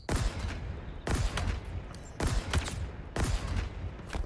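Assault rifle fire in Halo Infinite comes as four sustained bursts of rapid shots, each about a second long and separated by short gaps, loud and up front.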